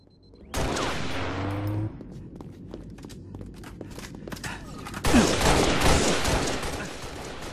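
Gunfire in Halo: Reach, bursts of rapid shots and explosive blasts with footsteps and mechanical clatter between them, loud and close in a busy game battle.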